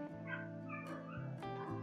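Small dogs barking indoors: a few short, sharp yips and barks over a steady humming background, fairly near, with no talk.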